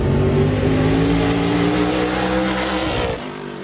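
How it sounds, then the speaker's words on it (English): A modified race car driven by Bobby Labonte runs hot laps at North Wilkesboro Speedway, its engine roaring loudly at high, sustained revs as it passes close by, then cutting off abruptly near the end. "Bobby Labonte, driving a modified, made hot laps at North Wilkesboro Speedway, the first at-speed laps a race car has run here in over a decade"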